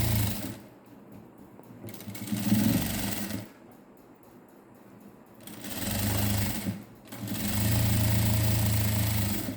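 An electric sewing machine stitches a net blouse sleeve in three bursts of rapid, whirring mechanical chatter. Each run lasts a couple of seconds and is separated by brief pauses.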